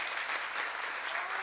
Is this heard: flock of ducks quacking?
no